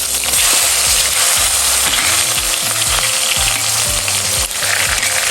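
Onion sizzles loudly in hot oil for a local village-style chicken curry, a dense continuous frying hiss close up with a repeating low mechanical thumping pattern beneath it.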